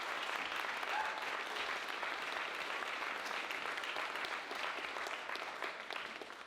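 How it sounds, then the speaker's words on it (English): Sustained audience applause at a university Three Minute Thesis competition, a dense steady clapping from a sizeable crowd that holds for several seconds and slowly tapers. "Let's have a big round of applause"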